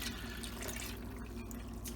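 Chicken broth pours into a slow cooker as part of a chicken and dumplings recipe, a faint, steady liquid splash and trickle lasting about two seconds.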